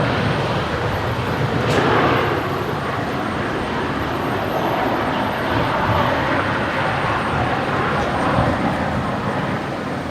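A QantasLink Embraer E-Jet touching down on Brisbane's runway 01 right at night produces a continuous loud, rushing engine and rolling roar that stays steady, with no voices over it.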